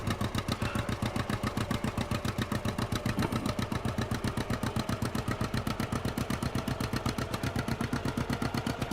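A vehicle engine runs in a farming and forestry video game, a steady, rapid mechanical chugging pulse at idle that holds evenly throughout, moderately quiet and with no one speaking.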